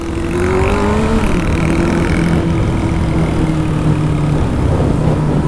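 A four-cylinder motorcycle engine with its exhaust removed runs loud and close, its steady raw drone dipping in pitch as the revs settle toward idle.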